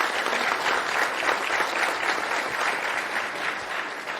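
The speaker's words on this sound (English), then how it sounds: "And round of applause." An audience at a panel with comic creators applauds, a dense, steady burst of clapping that carries on evenly for several seconds without speech over it.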